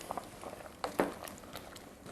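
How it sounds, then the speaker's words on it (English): A pot of Kerala spiced pumpkin soup comes up to the boil, giving faint, scattered bubbling pops and light patter at a quiet level. "Now soup's just coming up to the boil here"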